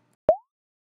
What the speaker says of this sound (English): Whereas a 5 mm bubble produces sound at 600 Hz.